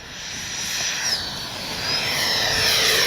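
An FMS 70mm F-18 V2 RC jet makes a low pass with its landing gear down, a loud, steady ducted-fan roar with a high whine that shifts in pitch as it goes by.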